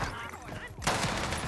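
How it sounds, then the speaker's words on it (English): A shotgun blast in the Call of Duty Vanguard Warzone game on Rebirth Island, arriving as a sudden loud broadband burst partway through, after a stretch of murky game ambience and faint voice chatter. "It's a regular shotgun."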